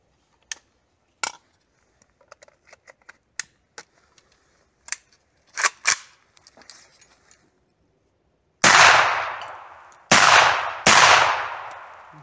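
A handful of small sharp clicks and clacks, then three loud, sharp blasts with long decaying tails, about a second apart, from a Saiga .410 shotgun fitted with a closed-type muzzle suppressor.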